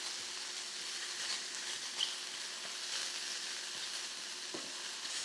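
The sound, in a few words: mushrooms browning in a hot pan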